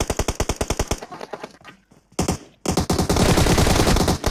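Automatic rifle fire in PUBG Mobile rattles out in rapid bursts, loud and close, then drops away briefly before a dense, sustained barrage of shots fills the rest.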